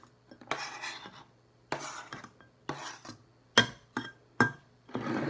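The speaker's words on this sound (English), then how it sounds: "Let's now chop two garlic cloves." A knife chopping two garlic cloves on a cutting board at home while cooking vegan pasta, heard as several separate scraping, tapping bursts close by with short pauses between them.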